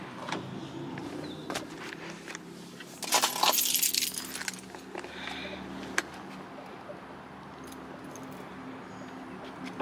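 Keys jangle and clink briefly in a burst mid-clip, with scattered small knocks and handling noises before and after under a quiet background.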